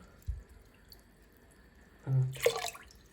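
A brief low splash, then after a pause a short burst of liquid pouring and splashing into water, close and quiet overall, in a home kitchen.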